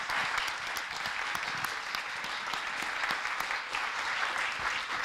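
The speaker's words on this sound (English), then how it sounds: "Please let's applaud them once again." An audience at a student project presentation applauds a team, with steady, dense clapping that holds evenly at moderate volume throughout.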